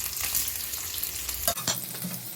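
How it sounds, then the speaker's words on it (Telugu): A large onion fries in a pan for a fish curry, giving a soft, steady sizzle with a few stirring scrapes, up close and with no talking. "ఇది ఒక పెద్ద ఉల్లిగడ్డ ఇప్పుడు ఇందులో వేసి బ్రౌన్ కలర్ వచ్చే వరకు ఇది వేయించుకోవాలి"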